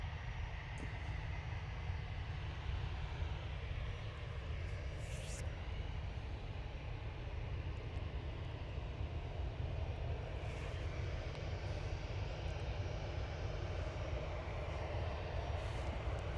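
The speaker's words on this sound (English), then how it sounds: "Jet2 A321 normal edition. This one's off to Naples." Jet2 Airbus A321 airliner departing Manchester Airport, a steady broadband jet engine roar heard from a distance that holds level for over sixteen seconds without a clear rise or fade.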